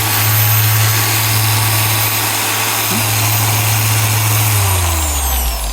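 Dual action polisher running flat out at top speed, a loud steady motor drone with a constant low hum that drops in pitch as it winds down near the end, close and heard alone.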